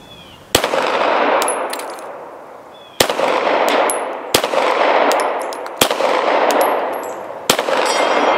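Five sharp Glock pistol shots at an outdoor range, each followed by a ringing clang from a red steel plate target, spaced a second or two apart with a long reverberant echo after each, loud and close with no voices.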